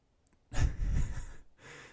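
After a heavy workout, a person breathes hard and loudly at close range, with deep, gusty exhalations like sighs coming in a steady run, briefly pausing before resuming.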